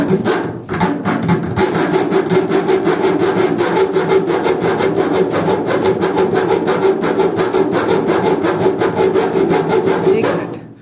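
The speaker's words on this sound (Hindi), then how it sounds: "आरी ब्लेड से काट रहे हैं, इसे काट के ना पेचकस का शेप देना है" A hand-held saw blade cutting a screwdriver slot into a part during a washing machine repair, with fast, rhythmic back-and-forth rasping strokes, loud and close, running steadily for about ten seconds.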